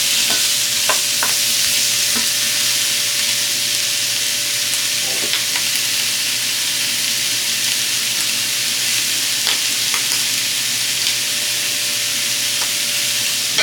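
Scrambled eggs frying in a skillet, a loud, steady close sizzle and hiss running throughout, with a few faint scrapes and taps of stirring and no voices.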